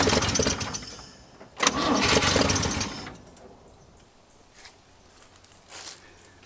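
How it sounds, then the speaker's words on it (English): An old Chevy C10 truck engine, long left sitting, cranks and catches briefly in a loud rough burst, then dies back to near quiet with a couple of faint later sputters. "this engine sounds really, really bad"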